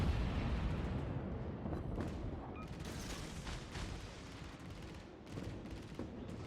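Naval gunfire and explosions in World of Warships during a torpedo hit on the battleship Iowa: a dense, continuous roar of booms and blasts with sharper bursts scattered through, loud and without talk.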